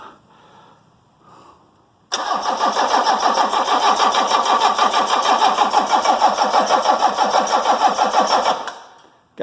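A Mercedes OM617 diesel engine being cranked with the injector lines cracked: a long, rhythmic, loud starter churn with regular pulses that continues for about six seconds and then cuts off.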